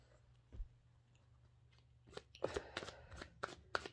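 Tarot cards are shuffled and riffled in quick crisp bursts after a quiet start, close and fairly soft, with a low hum underneath.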